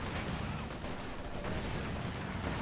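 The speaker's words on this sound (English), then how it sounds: "Machine gun there, fighting back as much as can" Sustained machine gun fire in Company of Heroes 2 battle, an MG-34 among the guns, dense overlapping bursts of gunshots continuing throughout amid general combat noise at a steady loudness.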